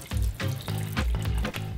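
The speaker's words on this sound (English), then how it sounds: "Now attach the Ingenio straining lid and carefully drain out the water." Water from boiled potatoes gushes out through a Tefal Ingenio straining lid into a sink, a loud close splashing pour that surges in repeated bursts with no talk.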